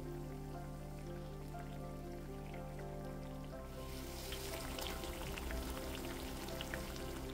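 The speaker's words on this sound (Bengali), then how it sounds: "তারপর তেলটা গরম করে ছোট্ট ছোট্ট করে মালপোয়ার আকারে এগুলো ভেজে নেব" Small rounds of malpua batter frying in hot oil, a steady bubbling sizzle that grows busier and crackles more in the second half, close and continuous with no talking.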